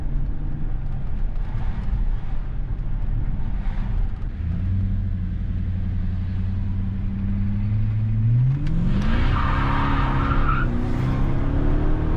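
A loud BMW 750i V8 engine rumbles nearby during city driving, then revs sharply upward as the car accelerates hard, its deep growl rising in pitch.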